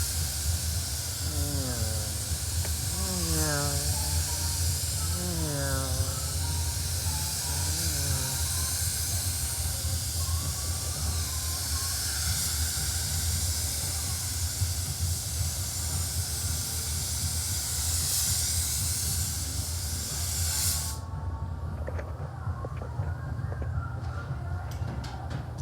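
A spray gun laying a second coat of Panelsnap paint sends out a steady, close hiss that runs for over twenty seconds under faint background tones before cutting off abruptly near the end.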